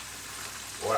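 Buttermilk chicken pieces frying in a pan, a steady soft sizzle throughout that swells louder near the end as oil crackles up, with no voices.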